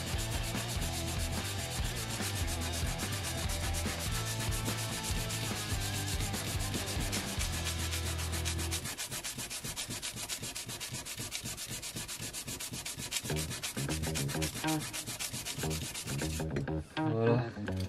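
A rusty blade is sanded with coarse grit-30 abrasive in a long, harsh, continuous rasping scrub, loud and close, with steady strokes changing texture midway and briefly stopping near the end.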